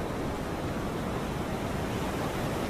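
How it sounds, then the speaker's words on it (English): Ocean surf rolling onto a beach, a steady, broad wash of breaking water that stays loud and even throughout, close by and with no voices over it. "Here comes a wave."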